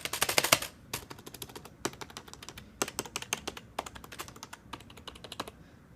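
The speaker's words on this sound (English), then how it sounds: "this isn't a mechanical keyboard, so it's not the clickiest of keyboards. It's not too silent either." Typing on a non-mechanical computer keyboard, heard up close as bursts of soft key taps in quick irregular runs with brief pauses, moderately loud and with no talking.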